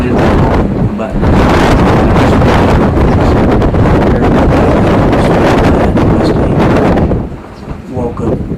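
Strong wind buffets the microphone at a hunting stand during a Texas hog hunt, a loud continuous roar with gusts that drops slightly near the end, with no talk heard.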